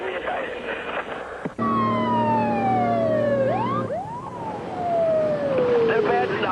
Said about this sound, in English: I did hear your fire siren blow